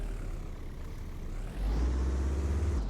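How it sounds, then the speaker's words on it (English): Beefy vehicle engine in the driving game Taxi Life, played through a TV: a low idling rumble that deepens and grows louder halfway through as the revs rise, steady with no talk. "So you can hear the engine already. It's quite a beefy thing."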